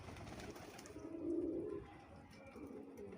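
Pigeons on a rooftop coo in a low, soft, rolling call that swells and then fades, heard faintly at a moderate distance with no talking.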